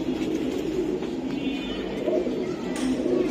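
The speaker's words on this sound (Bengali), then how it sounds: "এই যে দেখেন কবুতর গুলা খুবই সুন্দর" A male and female pair of high-flying Giribaj pigeons give soft, low, repeated coos close by, under steady background noise and intermittent human voices.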